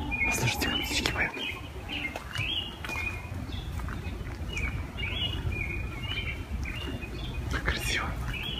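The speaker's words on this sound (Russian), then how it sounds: "Слушайте, как птички поют." Birds chirp and tweet steadily in a park forest in New York's Prospect Park, bright repeated calls over a continuous outdoor hum with some soft rustling.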